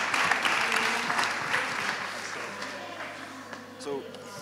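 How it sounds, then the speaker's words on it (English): Applause from a conference audience at a talk on media literacy in a large hall, a broad wash of clapping that fades gradually, mixed with crowd murmur and some faint talk in the room. "Please applaud."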